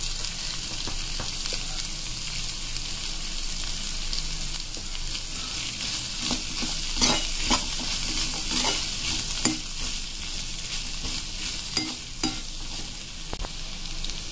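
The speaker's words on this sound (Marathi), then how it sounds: "इथे आपले छान प्रकारे चणे फ्राय होते" Chickpeas fry in a pan with a constant crackling sizzle, while irregular stirring scrapes and light clinks land throughout at close range.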